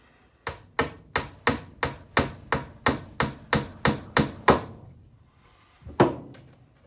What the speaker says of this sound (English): I'm going to take a drill bit and a hammer, and I'm going to tap a little hole